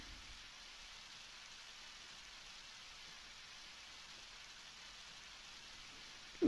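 Steady, soft rain hissing without a break in the Undertale Waterfall area, a faint even wash of falling water with no voices.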